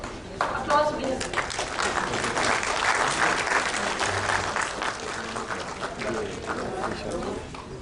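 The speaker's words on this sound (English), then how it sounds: "Applause, please." An audience applauds throughout a celebration ceremony for China–Pakistan space science and technology cooperation, with a dense, continuous round of clapping and voices talking over it.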